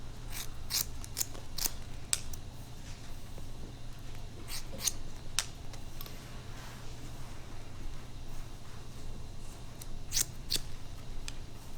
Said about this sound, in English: we're just going to trim a little bit off